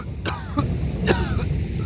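A character in Hunt: Showdown 1896 coughs from choke bomb gas, several harsh, close coughs in quick uneven bursts over a steady game background.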